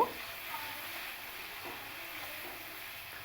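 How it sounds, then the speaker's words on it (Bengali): Tarka masala spice blend sautéed and stirred in a pan for a vegetarian tarka dal, giving a soft, steady frying hiss with faint scraping, fairly quiet and continuous throughout. "এই তরকা মশলা দিয়েও আমি কিছুক্ষণ মশলাটাকে আবারও কষিয়ে নেব"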